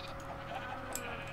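A sheep bleats in the farming video game Regrowth, a soft, short animal call sitting over steady game ambience and music without any talk.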